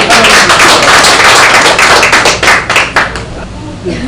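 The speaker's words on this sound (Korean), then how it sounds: "박수로 환영합니다" Dense audience clapping welcomes artist Kim Su-nim at the opening of a 2014 Hwasu artist talk, a steady crackling burst of many hands that stays loud for about four seconds.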